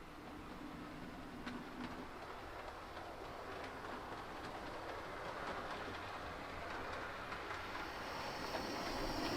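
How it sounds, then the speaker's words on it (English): A model train rumbles and clatters steadily as it rolls in, wheels clicking over rail joints and growing slightly louder toward the end. "the second of many trains to Hayling Island arrives."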